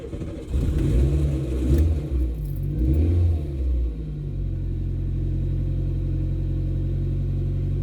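A worn Nissan Micra with a bad gearbox and almost no petrol cranks with a few uneven churning bursts, catches, then settles into a steady, rough low idle, heard close up.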